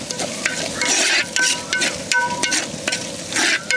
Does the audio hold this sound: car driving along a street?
no